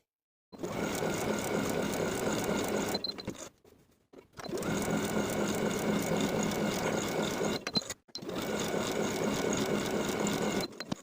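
A sewing machine stitching fabric for a dress front panel, running loud and close in three long continuous bursts separated by short pauses, with no voices.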